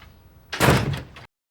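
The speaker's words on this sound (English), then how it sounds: "Shut the door." A door swung shut, heard as one heavy, close slam with a short rumbling tail that cuts off into silence.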